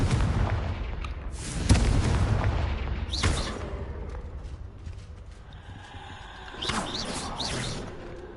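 Confringo spell explosions in the Hogwarts Legacy game, a loud booming blast with crackling debris followed by further sharp bursts and a later second explosion amid game ambience, no talking.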